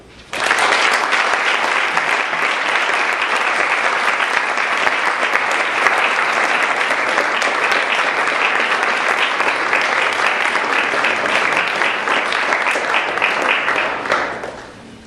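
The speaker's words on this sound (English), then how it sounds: "If we could have another round of applause for all of our great speakers" Steady, dense audience applause from a large crowd, continuous for about fourteen seconds before fading out.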